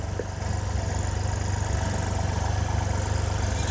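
Steady low idling of a tractor engine at a soil service event at Dera Baba Nanak, a constant close rumble with no talk over it.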